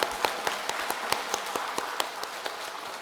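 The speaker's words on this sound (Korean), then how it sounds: "자, 다시 한번 박수하겠습니다." Members of a church congregation clap together in a Sunday worship service, a quick, fairly even run of sharp claps at moderate loudness lasting a few seconds.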